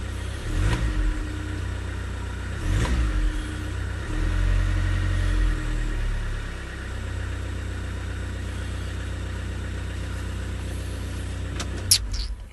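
A VW Caddy engine on a cold day revs in a few short bursts, then settles into a steady, close mid-pitched idle that runs on alone with no talking.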